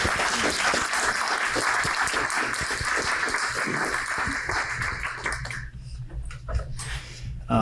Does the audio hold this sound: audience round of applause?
yes